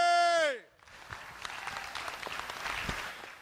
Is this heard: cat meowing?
no